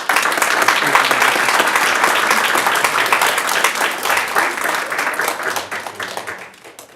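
A room at a community college district board meeting breaks into sustained applause honoring Gloria's 20 years of service, a dense wash of many hands that holds steady, then thins and fades near the end.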